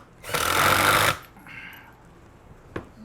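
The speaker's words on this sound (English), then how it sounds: "I'm going to start drilling this thing in there." One short, loud burst of a power drill driving a screw into a wooden shop stool lasts under a second. A fainter whir and a sharp click follow.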